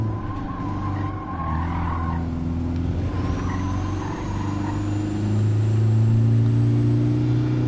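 Street car engine on a race track in Gran Turismo 7, droning loudly with tires squealing and skidding through corners, then the pitch climbs as the car accelerates toward the end.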